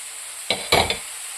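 Sardine and salted mango are stirred in a frying pan, giving a quick pair of scraping strokes over a faint sizzle, close and brief.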